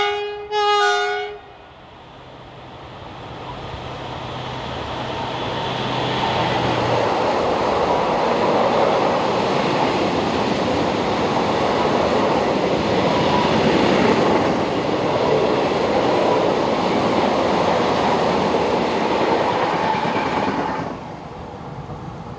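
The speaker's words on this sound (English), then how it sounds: "One such example is number 75006, seen here heading south with a loaded rail train shortly after 11 a.m." Locomotive 75006 hauls a loaded rail train south on the Mâcon to Chalon-sur-Saône line in France. A short horn blast opens the passage, followed by a long, loud, steady rumble of wagons rolling past nearby, which cuts off near the end.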